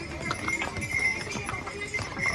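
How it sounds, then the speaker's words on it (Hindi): Hooves of mules clip-clopping along the Kedarnath trek path, a steady, moderately distant patter of footfalls over rushing outdoor background noise. "इस पे जो खच्चर हैं वो चल रहे हैं"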